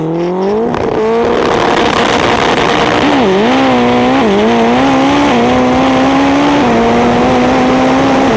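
A Nissan ute drag race car roars at full throttle down the drag strip, engine climbing steadily through gear changes with brief dips in pitch, loud and close the whole way.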